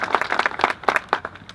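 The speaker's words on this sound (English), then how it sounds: "I believe they deserve a big round of applause" Audience applause at an outdoor reflection pool dedication ceremony, a short burst of scattered hand clapping from a modest crowd, fairly close and fading after about a second and a half.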